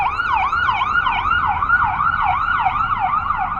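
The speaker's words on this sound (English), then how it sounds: "I got more emergency vehicles coming. There's coming an ambulance" A wailing ambulance siren sweeps up and down in a rapid, continuous cycle, loud and fairly close, with faint road noise underneath.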